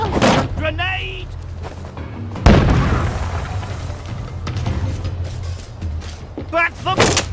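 A grenade detonates in We Happy Few, one sudden heavy boom partway through, set amid shouting voices and combat noise.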